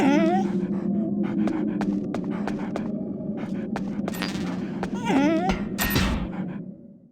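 In Metal Gear Solid: The Twin Snakes, a dog pants rapidly and lets out high whimpers, with sharp game effect thuds punctuating the rhythmic breathing.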